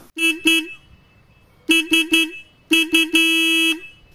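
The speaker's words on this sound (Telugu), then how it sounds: "హార్న్ యొక్క లౌడ్నెస్ అనేది ఒకసారి చెక్ చేద్దాం" Horn of a 2024 Royal Enfield Classic 350 motorcycle, loud and close, sounded in bursts: two short toots, three more, then two short and one longer held blast, with quiet gaps between.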